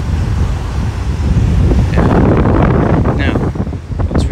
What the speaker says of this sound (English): it is windy as heck